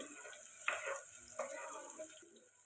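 Onion and curry leaves fry in hot oil, making a faint, steady hissing sizzle with a couple of brief louder spatters, heard close and quiet.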